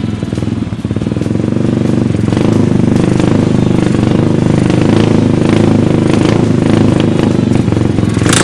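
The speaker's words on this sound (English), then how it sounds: "let's proceed to turning on the engine and testing it out." A small 250 go-kart engine sputters to life, then runs steadily at a loud, buzzing idle with rattling clatter, close by and continuous.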